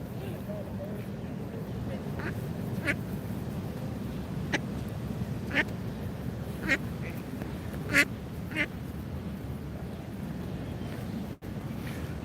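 Ducks quack in a short series of separate calls over steady wind and outdoor rumble, moderately near, with people talking.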